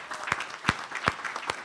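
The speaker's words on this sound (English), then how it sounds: "Round of applause for Bill." Audience applause at a council meeting recap event, a short burst of scattered claps with a few sharper individual hits, moderately close and without speech.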